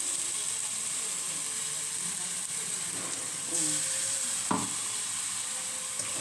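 Pieces of rui fish fry in oil with a faint, steady sizzle, broken by a few soft clinks and scrapes of a utensil partway through.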